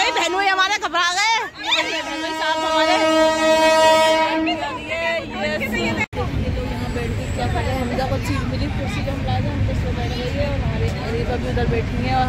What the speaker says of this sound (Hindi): बहनोई ट्रेन आ गई